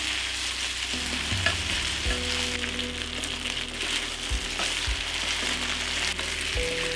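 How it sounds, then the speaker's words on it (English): Beef cubes browning in a pot, a constant close sizzle and crackle of searing meat with a few stirring knocks. "Check on our beef here, and then just turn it nice beautiful brown."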